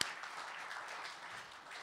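Faint, steady audience applause at a public talk, a soft wash of many hands clapping for about two seconds with no voices over it.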